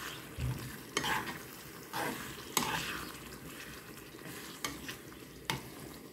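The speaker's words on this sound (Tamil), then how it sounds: "மிக்ஸ் பண்ணி இந்த ஆனியன் வதங்குறதுக்கு ஒரு 5 மினிட்ஸ் வச்சுட்டா" Onions for a spicy liver curry are stirred and sautéed in a pan, a low sizzle punctuated by several sharp spoon knocks and scrapes at irregular intervals, close and moderately quiet.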